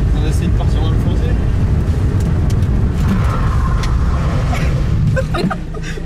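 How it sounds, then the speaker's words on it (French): A Renault 11 Turbo D fitted with Peugeot 307 brakes braking hard on a road, with a loud, continuous rumble of tyres and car noise throughout and muffled voices underneath. "On va se tester un petit freinage quand même, on va essayer de partir dans le fossé."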